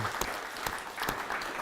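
Audience clapping at a live festival talk in Manchester, fairly faint and uneven, with a few sharper individual claps standing out from the soft wash.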